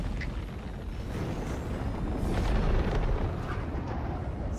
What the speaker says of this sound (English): Something exploded.